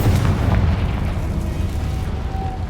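A continuous rumbling explosion from Bombarda and Confringo spells in the Hogwarts Legacy video game, a deep roar with crackling bursts that holds steady and loud throughout.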